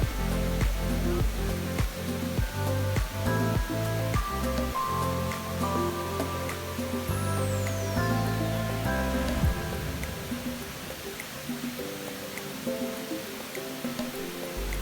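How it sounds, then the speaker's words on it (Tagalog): Water cascades down the human waterfall sculpture inside Dubai Mall, a steady rushing splash under loud indoor music with a rhythmic beat and a descending synth sweep. "This human waterfall is one of the most interesting you can see here in Dubai Mall."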